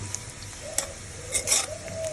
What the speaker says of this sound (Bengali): আমার পেঁয়াজটা ভাজা ভাজা হোক